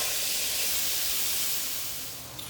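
Meat sizzling in a pan for lasagna, a steady broad hiss that holds constant and then eases off slightly toward the end.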